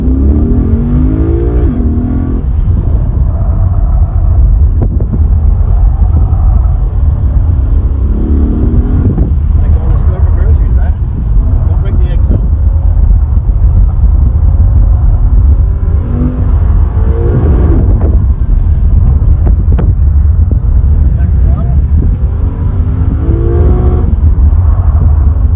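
Loud, steady engine roar of a Lexus IS500 F Sport carrying adult passengers around an autocross course, rising and falling as it accelerates and brakes through the turns, with people talking over the engine noise.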